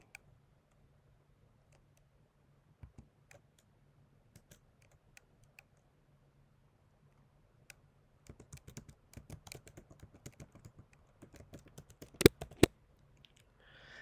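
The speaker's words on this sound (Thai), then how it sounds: "หลังจากที่เราพิมพ์เสร็จแล้วนะครับ" Text typed on a computer keyboard, soft key clicks scattered and sparse at first, then a denser burst of quick taps in a quiet room, close and faint, with no talking.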